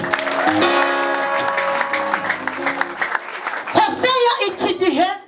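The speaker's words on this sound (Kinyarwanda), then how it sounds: "dukomere Imana amashyi" Applause from a church congregation during a sermon, a dense clapping wash mixed with loud sustained keyboard music and a preacher's voice, swelling toward the end.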